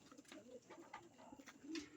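Pigeons coo softly at night in a loft, with several low, rounded, repeated coos overlapping in a steady, close rhythm and no talking.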